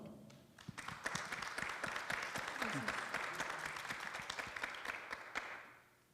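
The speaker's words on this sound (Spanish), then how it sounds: "vamos a darles un aplauso" Audience at a public reading-circle panel discussion breaks into applause, scattered close claps thickening into steady clapping that fades out, with a voice briefly audible at the start.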